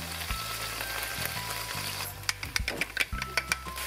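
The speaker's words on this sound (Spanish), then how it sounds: "Vamos a agregar un poquito más de aceite." Oil poured into a hot frying pan after liver has been cooked, sizzling and crackling steadily, with sharper popping spatters toward the end.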